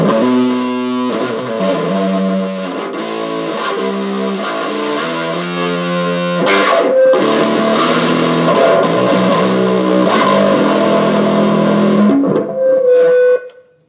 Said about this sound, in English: Next up would be modern, which is the sound of a large high gain amp.